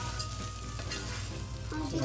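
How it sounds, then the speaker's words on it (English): Chicken and rice toasting in a frying pan give off a soft, steady sizzle that stays low and even, with faint scraping of stirring near the end. "Nice and toasted with the flavors of the chicken. Starting to stop sizzling."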